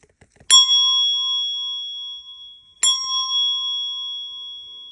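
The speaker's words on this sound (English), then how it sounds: "So it takes a lot to get it to ring, so it's a little stiff moving around inside there." A heavy, stiff hand bell of the kind used for Montessori music lessons rung twice. Each bright metallic ding rings out clearly and sustains for about two seconds before the next strike, loud and close with no voices.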